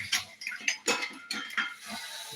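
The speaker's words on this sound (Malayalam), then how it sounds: "നമുക്ക് ജസ്റ്റ് ഇതൊന്ന് ഇളക്കി നോക്കാം" Tuna fish curry stirred in a pot, with a few close scraping clinks of a spoon against the metal rim in an irregular rhythm, brief and moderately loud.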